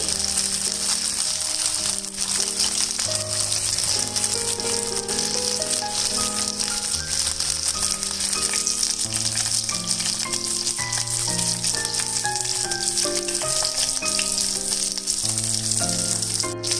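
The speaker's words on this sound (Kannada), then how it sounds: "ಮೀಡಿಯಂ ಫ್ಲೇಮ್ ಅಲ್ಲಿ ಇಟ್ಕೊಂಡು ಚೆನ್ನಾಗಿ ಫ್ರೈ ಆಗ್ಲಿಕ್ಕೆ ಬಿಡಿ" Bangda mackerel coated in green masala fries in a pan over medium flame, a continuous crackling sizzle underneath loud background music that runs the whole time.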